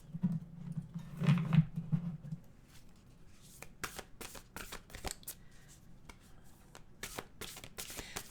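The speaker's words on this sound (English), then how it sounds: "Let's get an oracle card." Oracle cards shuffled by hand, a soft burst of riffling at the start followed by scattered light taps and flicks of the deck, quiet and close with no talk.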